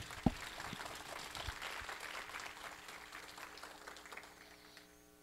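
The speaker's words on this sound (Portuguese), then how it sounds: "Uma salva de palmas para o nosso pessoal." A seminar audience applauds the speakers of a round-table panel on palliative care, steady dense clapping from a sizable crowd with an early sharp thump, then gradually thinning toward the end.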